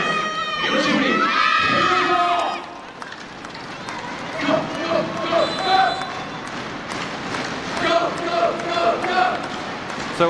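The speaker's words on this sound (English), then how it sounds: "The crowd trying to play their part in lifting Japan" An arena crowd at a women's volleyball match between Japan and Brazil roars and shouts in a loud swell, drops off, then keeps up rhythmic chanting and cheering with commentary running over it.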